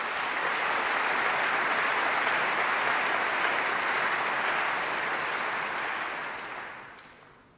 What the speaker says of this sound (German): das ist auch nochmal ein Applaus wert.